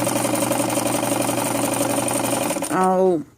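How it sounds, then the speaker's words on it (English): A sewing machine runs a satin stitch at an even speed, a close, loud, steady mechanical whirr that ends in a short rising whine as the motor slows and stops. "it's a good idea to keep an even speed when you're doing a satin stitch and other embroidery type stitches"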